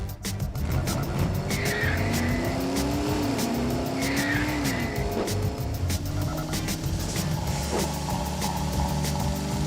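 Toy race cars in an animated superhero cartoon roar along with rising engine whines and repeated tire squeals and skids, loud and continuous throughout with music-like effects layered over the racing.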